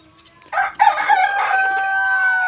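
A rooster crows once nearby, a loud drawn-out call with a rising start and a sustained, fading tail.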